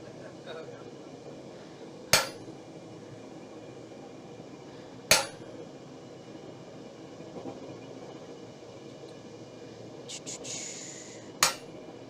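A hammer strikes metal on a blacksmith's anvil three times, each blow a sharp, ringing clang separated by several seconds over a low background hum.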